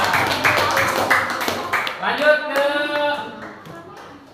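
A classroom group claps hands in a few rhythmic bursts near the start, followed by a teacher's voice speaking over the room.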